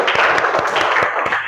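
Classroom clapping for a student's correct answer, a quick burst of many hands with sharp irregular claps running throughout.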